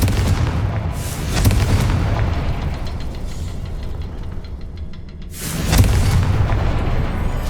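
A Confringo fire spell bursts in Hogwarts Legacy, two loud booming explosions about four seconds apart, each a broad rumbling blast with a rolling tail over a continuous low game rumble, no talking.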